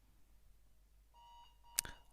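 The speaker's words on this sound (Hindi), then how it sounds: "तो अलार्म बज गया है, टाइम ख़त्म हो गया है।" Quiz timer alarm sounding in a physics class quiz: after a quiet stretch, faint electronic tones rise, then a single sharp, bright beep burst cuts in near the end.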